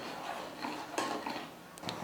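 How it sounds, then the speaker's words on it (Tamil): A spoon stirs sugar into chana dal payasam in a cooking pot, giving faint, scattered clinks and soft scrapes against the metal over a quiet kitchen background. "சக்கரை சேர்த்ததுக்கப்புறம் நல்லா கலந்து விட்டுடுங்க."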